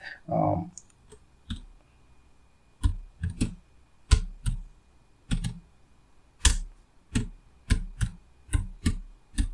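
Someone types on a computer keyboard while entering a name into an Excel spreadsheet cell: close, irregular key clicks in short bursts, with a brief murmur of voice at the start.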